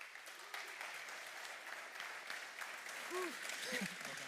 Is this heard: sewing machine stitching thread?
no